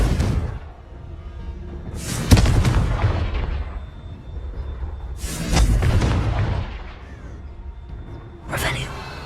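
Confringo fire spells cast in Hogwarts Legacy, three separate loud bursts spaced a few seconds apart, each with a sharp whooshing attack and a rumbling decay, over faint game ambience.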